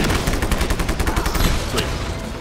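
Rapid bursts of automatic gunfire from the video game Just Cause, dense and loud, with overlapping shots rattling continuously through the whole stretch.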